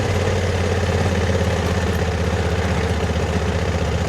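A Honda Africa Twin motorcycle engine runs steadily off-road on Salisbury Plain, a close, continuous mid-low drone with a slight throb and no pauses throughout.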